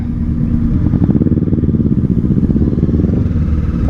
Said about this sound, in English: Oh, the boys on the bikes